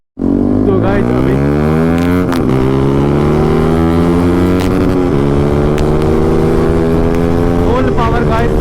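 Yamaha R15 motorcycle fitted with an SC Project full-system exhaust, revving loudly and continuously nearby as it accelerates, with rising and falling engine pitch and brief shifts, heard on a ride in Punjab.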